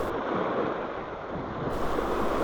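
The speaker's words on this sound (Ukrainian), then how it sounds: "Сьогодні ось ви бачите на відео трошки є маленькі хвилі." Small sea waves wash steadily onto the shore at a seaside trout-fishing spot, a constant soft surf hiss with a light breeze and no voices.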